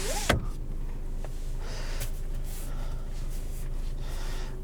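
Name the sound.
2020 Volkswagen Passat SEL sunroof motor opening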